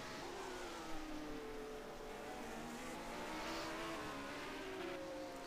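A 1974 Formula 1 race car engine in a racing game at Interlagos drones at high revs with rising and falling pitch, heard from the onboard view, loud and continuous with no talk.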